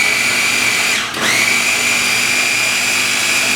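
A Ninja blender whirs loudly and steadily as it mixes a Dole Whip, holding a constant high motor whine with a brief dip in pitch partway through before spinning back up.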